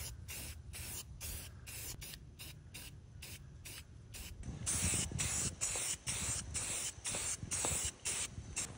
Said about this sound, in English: we're gonna just hit those with a little bit of paint